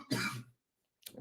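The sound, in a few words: cough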